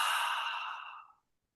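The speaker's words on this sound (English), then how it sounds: "breathe it out with a ha sound" One long audible exhale with an open "ha" sound, breathy and close, fading out over about a second into silence.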